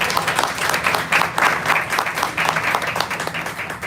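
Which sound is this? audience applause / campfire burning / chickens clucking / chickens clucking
audience applause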